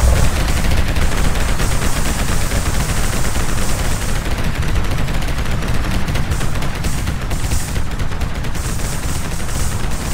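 Spaceship weapons in the game Limit Theory blaze on a strafing run, a loud, dense stream of rapid-fire bursts rattling continuously with no pauses, close and harsh from start to finish.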